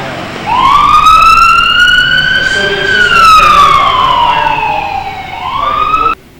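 An ambulance siren answering an emergency medical call sweeps up and down in a loud, close wail for about six seconds, then cuts off abruptly.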